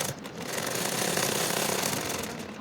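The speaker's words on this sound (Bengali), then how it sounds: "একটু কাপড় বাকি রেখে আমি লেসটি সেলাই দিয়ে লাগিয়ে নিচ্ছি।" A sewing machine runs steadily for a few seconds while stitching lace onto the neckline of a child's top, producing a close, continuous mechanical whir with rapid needle chatter.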